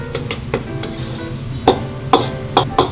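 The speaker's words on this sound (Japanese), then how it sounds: "ゆっくり炒めることによってこう魚介類のうまみですね" Seafood stir-fried slowly in a wok with sweet bean sauce and soy sauce for seafood mapo tofu, a steady close sizzle with a scraping spatula stirring in a few sharp strokes, no talk.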